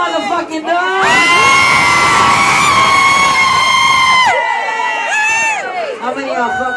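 A bar crowd at a live show cheers, whoops and shouts loudly in a sustained roar, with high yells rising over the din before it thins into scattered shouts.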